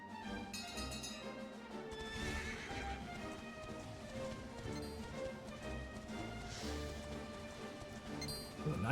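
Hooves clip-clop in a steady galloping rhythm with a horse neighing, set against a layered musical background, from the video game Dragon Quest XI.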